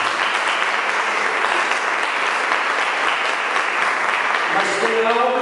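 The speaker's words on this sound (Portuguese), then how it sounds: "levante a sua mão para o céu e aplauda o Senhor por ele" Church congregation applauding the Lord during a Portuguese-language worship service, a steady, dense wash of clapping that fills the room for several seconds, with a voice rising faintly near the end.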